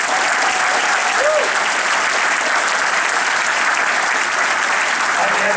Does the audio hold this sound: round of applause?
yes